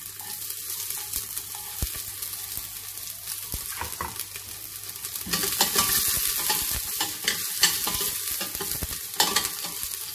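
Chopped ginger and garlic sautéing for mutton paya soup, a steady frying hiss with occasional utensil scrapes and stirring knocks, growing louder and busier midway; no talking.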